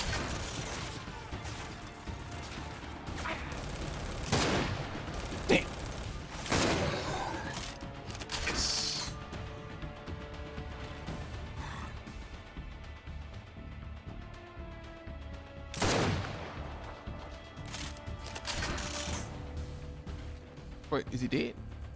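Gears 5 gameplay with repeated bursts of gunfire and heavy impacts scattered over a long stretch, loud sharp volleys against game music and ambience, while a person talks throughout.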